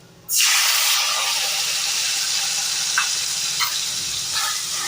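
Spice paste drops into hot oil with a sudden loud sizzle that holds steady as it is stirred, with a couple of soft scraping clicks, close up and no talking.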